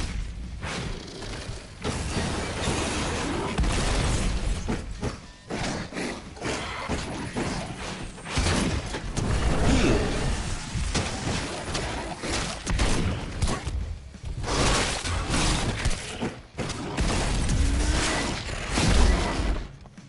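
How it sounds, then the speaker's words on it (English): A car blows up in the video game Werewolf: The Apocalypse – Earthblood, a loud boom and shattering crash buried in a dense, continuous wash of game combat noise, thuds and whooshes. "car explosion"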